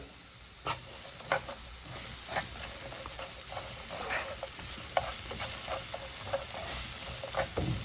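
Onion sautés in leftover fat in a frying pan with a loud, continuous sizzle, punctuated by frequent rhythmic scrapes and clicks of a utensil stirring close up, with no voices.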